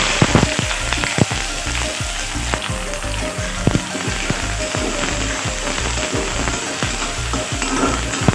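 Onions frying in oil in a pan for a village-style chicken curry, a loud continuous close sizzle with rapid regular spatula taps and clicks against the pan throughout, no voices.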